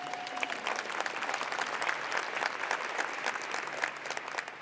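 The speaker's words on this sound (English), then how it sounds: "We can clap." Sustained applause from a conference audience at the LeadingAge 2015 Annual Meeting, many hands clapping steadily at an even level throughout.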